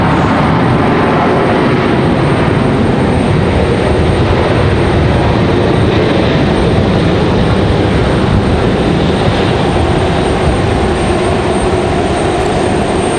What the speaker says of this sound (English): So, Delta from Atlanta arriving way late.